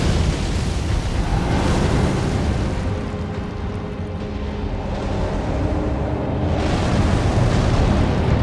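A Fire Giant boss unleashes a fire attack in a video game, a sustained roaring, rumbling blast of explosive fire that fills the whole stretch, loud and continuous, with a brief dip midway and no voices.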